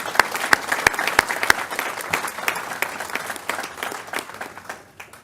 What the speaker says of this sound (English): let's give them all a round of applause one more time